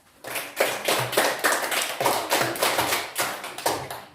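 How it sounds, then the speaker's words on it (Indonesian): A classroom group claps hands in a rhythmic pattern, about a dozen sharp, loud claps in steady bursts with no talking. "Oke, tepuk tangan."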